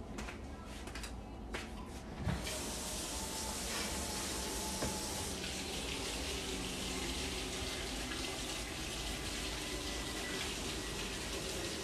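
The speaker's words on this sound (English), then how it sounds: "let me just rinse my brush one more time" A paint brush is rinsed under a running tap, water gushing steadily and close for the full length, with a few soft knocks near the start.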